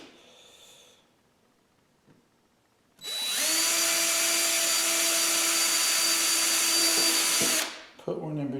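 A power drill drives a cheap hardware-store screw into wood in one loud, steady run of about four and a half seconds, winding down at the end, after a quiet stretch with faint talk.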